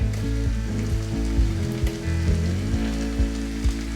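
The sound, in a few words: chopped tomato added to frying onions, sizzling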